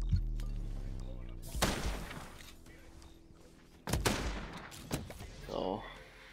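Mortar fire in Block N Load rings out as a couple of heavy, booming launches with sharp attacks, separated by quieter game ambience and a low droning tone.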